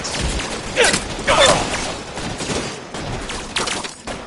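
Gunfire in the video game L.A. Noire, a busy mix of shots and bursts with a couple of louder cracks near the middle, running continuously under a faint game soundscape.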